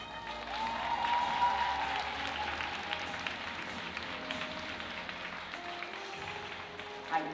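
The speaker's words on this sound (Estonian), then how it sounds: "meistriklassi võitjad. Aplaus!" Spectators at a rhythmic gymnastics championship applaud the master class winners, a steady crowd clapping that swells early then holds, with a faint tonal sound in the background.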